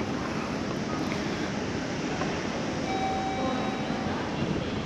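Steady broadband rumble of a moving train near Kanazawa, Japan, continuous and fairly loud, with a faint thin whine appearing partway through.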